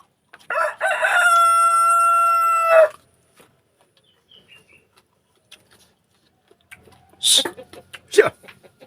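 A rooster crows one long, loud cock-a-doodle-doo close by, followed by quiet gaps and a few sharp clucks and squawks near the end.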